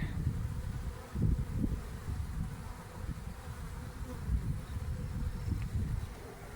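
Honeybee swarm buzzing around a swarm trap outdoors, a dense, steady hum of many bees up close with individual passes swelling and fading.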